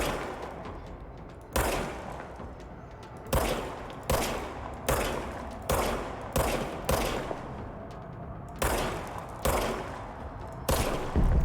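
Gunfire from the video game Control comes in about a dozen sharp, loud bursts with short echoing decays, spaced irregularly about a second apart.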